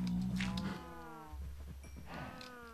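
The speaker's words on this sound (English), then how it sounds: "Cows." Cows in the video game SurvivalCraft give two long, low moos one after another, steady and fairly close with no talking over them.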